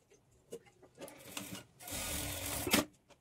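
A sewing machine stitching the lining of a high-neck blouse runs in one short, whirring burst after a few soft clicks and handling taps, fairly quiet and close, then stops with a sharp clack.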